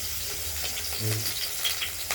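Eggplant pieces fry lightly in oil in a wok, giving a steady close sizzle that runs throughout, with a brief swell of stirring or bubbling partway through.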